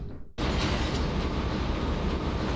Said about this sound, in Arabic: الحين شغل القطار زي ما انت شايف